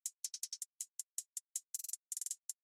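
Crisp, bright hi-hat loop from a future bass track, short closed ticks in a quick syncopated pattern with a few rapid rolls, played alone and fairly quiet.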